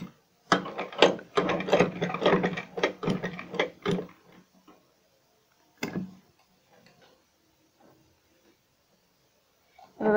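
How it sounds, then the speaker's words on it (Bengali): A sewing machine runs in a rapid burst of mechanical ticking while stitching a mask band onto fabric for a round frock, then stops, with a brief second burst and faint handling noises after. "এভাবে মাস্কে লাগিয়ে আপনারা দাগে দাগে সেলাই করে আনবেন"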